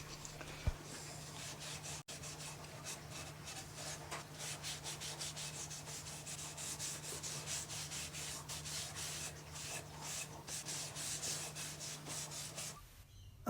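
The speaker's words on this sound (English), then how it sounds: "and then hand sanded." A wooden half-hull model is hand sanded with steady, close back-and-forth rubbing strokes that keep an even rhythm throughout, over a low constant hum, stopping just before the end.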